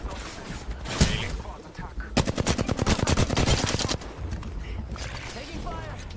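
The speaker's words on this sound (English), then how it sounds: "Taking fire." Rapid automatic gunfire from a video game rattles out in a dense, loud burst for about two seconds, framed by scattered single shots and in-game effects, with close, intense bursts dominating the middle.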